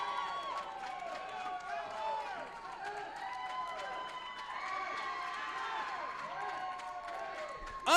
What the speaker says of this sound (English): The crowd is definitely into this.